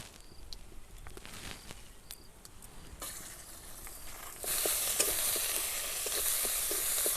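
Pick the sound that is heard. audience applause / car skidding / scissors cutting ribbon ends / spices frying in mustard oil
spices frying in mustard oil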